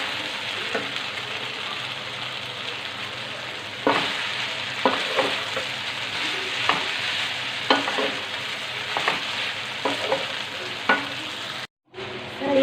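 Chopped capsicum and cabbage are stirred into chicken in a pan. A steady loud sizzle of frying runs throughout, with repeated scraping and clattering strokes from the spoon and a brief gap near the end. No one speaks.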